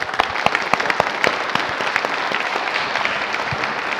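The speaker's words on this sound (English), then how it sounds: "let's give them a round of applause" An audience at a tech ecosystem talk applauds steadily, with many hands clapping at once in a dense, continuous patter that stays even throughout.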